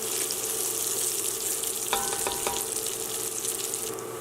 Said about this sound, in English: we're just going to continue to move our bacon around, just to make sure that they don't stick at the bottom of the pan here